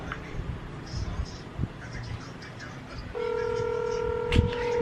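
A phone's video call ringback starts partway through, a steady multi-tone ringing that holds after the start of the call. It is preceded by quiet room noise and faint background voices.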